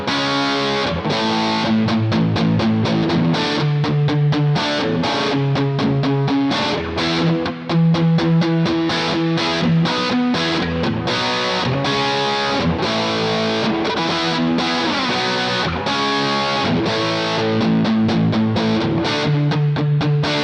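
A distorted electric guitar chugs through a driving rhythm, drenched in plate reverb from a discontinued pedal, loud and continuous with palm-muted stabs and ringing chords.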